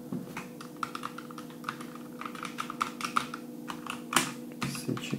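Keystrokes rattle steadily on an A4Tech Bloody B975 Light Strike RGB gaming keyboard with light-strike switches, a fast irregular clicking of many keys close up, with a steady hum underneath and no voices.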